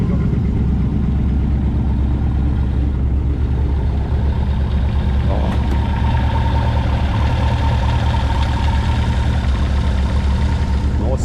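A rare 2.4 V8 car at a motoring festival runs with a deep, loud, rumbling engine note that stays steady and close throughout, with no talk over it.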